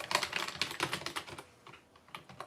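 Fast typing on an Apple computer keyboard hooked to a Mac Mini G4, rapid clustered key clicks close up, with a brief pause before a few final taps.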